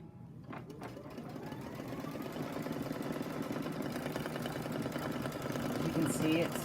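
A Brother embroidery machine stitches out a four-leaf clover appliqué, its needle hammering in a fast, even, continuous rhythm that builds slightly in loudness, close by, with a voice speaking over it.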